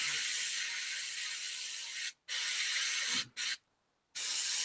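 Airbrush hissing steadily as it sprays paint onto a scale model, loud and close, with the air cutting out briefly twice and then for a longer pause before resuming.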